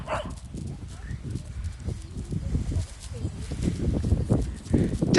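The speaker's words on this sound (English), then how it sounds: "Oh, these dogs are not yet on a lead." Dogs off the lead barking outdoors on a country walk, including an aggressive brown one, with sharp irregular barks mixed with footsteps and movement nearby.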